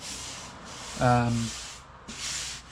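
Sandpaper of 80 grit rubs over fiberglass bodywork on a motorcycle's tail unit and front cowl in a few short, scratchy strokes, close by, with a brief hum partway through.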